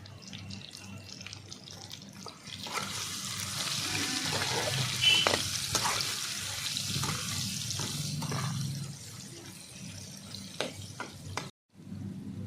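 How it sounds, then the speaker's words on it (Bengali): Potatoes with salt and turmeric fry in a pan, a broad steady sizzle that swells after a quiet start, with scattered scraping of a spatula, close up, then eases off before a short gap near the end. "প্রত্যেকে একটু লবণ দিয়ে একটু হলুদ দিয়ে ভালো করে লাল করে ভেজে নেব আলুগুলো"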